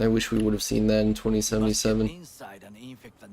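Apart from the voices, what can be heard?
No distinct noise like a dog, phone or traffic.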